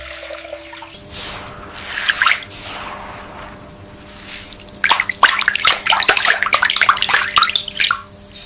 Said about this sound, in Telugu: ముందుగా మినప్పును శుభ్రంగా కడిగి కనీసం నాలుగు నుండి ఐదు గంటల పాటు తగిన్ని నీళ్లలో నానబెట్టుకోవాలి